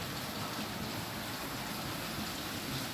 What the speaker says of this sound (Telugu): చూడండి ఎంత పెద్ద వర్షమే పడుతుంది